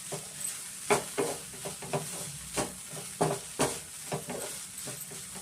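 Vegetable samosa stuffing stirred and frying in a pan gives a soft sizzle broken by a series of scraping, tapping spoon strokes at an uneven rhythm, close and fairly quiet.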